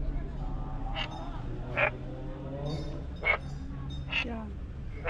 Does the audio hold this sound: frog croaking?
yes